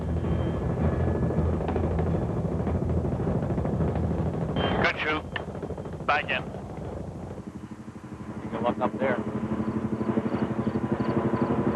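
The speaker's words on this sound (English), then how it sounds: "Not often you'll catch the boys jumping out of a helicopter." Steady heavy rotor and turbine roar of a helicopter during a parachute jump, loud and continuous throughout, with a brief voice and short radio-like calls cutting through the engine noise.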